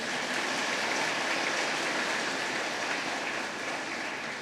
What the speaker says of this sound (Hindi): फादर पिंटो के लिए भी जोरदार से ताली बजा देंगे।